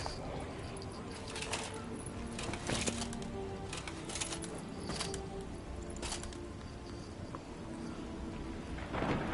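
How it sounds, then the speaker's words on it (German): Thunderstorm in The Witcher 3 video game: a dense, rumbling wash of rain and rolling thunder fills the whole stretch, with a louder swell at the close and no talk over it. "Boah, bitte Gewitter dazu"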